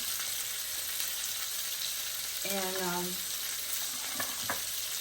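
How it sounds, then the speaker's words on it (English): Steady, loud sizzling of chicken breast frying in a pan, a constant crackling hiss, with a brief spoken word partway through. "I'm going to let it sit there and sizzle like that until it's good and brown on one side."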